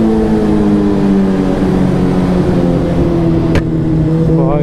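A new Mahindra Thar or Scorpio engine runs loud and close throughout, a steady, heavy droning rumble that dips slightly in pitch, with no voices over it.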